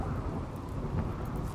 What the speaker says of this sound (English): I mean, it is raining, isn't it?